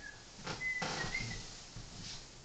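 A few short, thin whistled notes, some gliding slightly in pitch, over a quiet room background.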